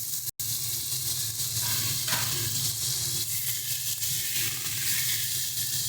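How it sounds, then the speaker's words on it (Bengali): Chopped tomatoes hit a hot pan for a fish-head and cabbage dish, a loud, steady sizzle and hiss close up with faint stirring scrapes, continuous and without talk. "তো চলো এবার এর মধ্যে দিয়ে দিচ্ছি আগে থেকে কেটে রাখা টমেটোটা।"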